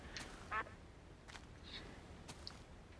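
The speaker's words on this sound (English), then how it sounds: "Was that a duck?" A duck in the video game Minecraft gives a single short, faint quack amid quiet background noise, with a few other soft, brief sounds.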